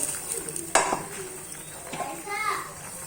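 A cooking pot lid is lifted off during the making of a hilsa fish curry with vegetable stalks. It makes a single sharp metallic clack close by, and a voice and light kitchen clatter carry on around it.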